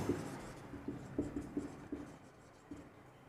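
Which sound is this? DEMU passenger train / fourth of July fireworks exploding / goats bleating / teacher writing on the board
teacher writing on the board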